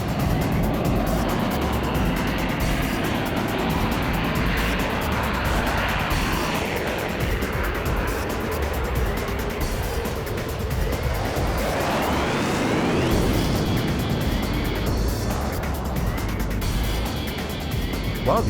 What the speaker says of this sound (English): Typhoon, clear takeoff and display